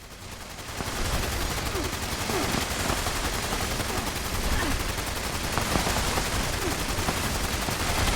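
Sustained rapid automatic gunfire in Fallout 76 aimed at a Scorch Beast, loud, dense and continuous for several seconds, with a voice faintly present beneath it.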